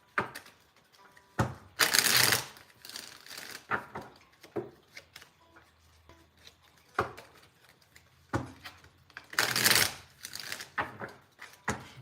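Tarot cards are shuffled and drawn by hand in two bursts of crisp riffling, with scattered soft card taps, slides and flicks between them in a quiet room.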